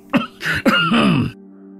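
Two or three harsh, throaty coughs from a sick man coughing up blood, in close succession, near and fairly loud, followed by a faint steady hum.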